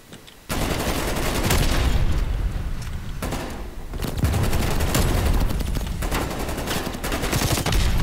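Sustained automatic gunfire in Call of Duty Cold War, dense rapid bursts that continue almost nonstop after a brief quiet opening.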